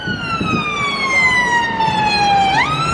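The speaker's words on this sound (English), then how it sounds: "Apologies about the ambulance noise" A loud ambulance siren wails nearby in central London near Piccadilly Circus, a long descending tone that then jumps sharply back up, over faint street noise.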